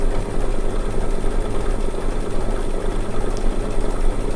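A sewing machine stitches a quilt in a steady, fast mechanical whir, loud and continuous without pause or talk.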